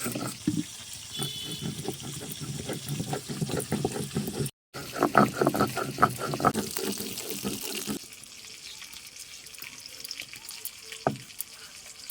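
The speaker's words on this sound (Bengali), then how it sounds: "সামান্য জল দেবো এর মধ্যে।" Water poured into a pan of Bengali fish curry made with rohu, green figs and papaya, a steady close splashing and trickling that runs for several seconds and then stops, leaving quiet kitchen sounds.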